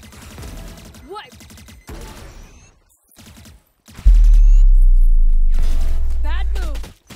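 Gunfire in a first-person shooter video game: sharp shots and short bursts, then a loud sustained low rumbling blast, with brief whistling ricochet sweeps in between.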